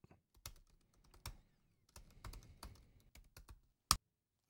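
Fingers type on a computer keyboard in quick, uneven clusters of soft clicks, close and quiet, finished with one sharper keystroke.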